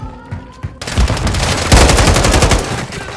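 Gunfire crackles in Call of Duty: Modern Warfare III, with scattered single shots giving way to loud, rapid automatic bursts that rattle on continuously at close range.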